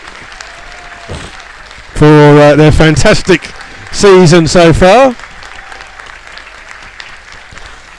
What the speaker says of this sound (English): So we're just getting a round of applause here for the Rebels this afternoon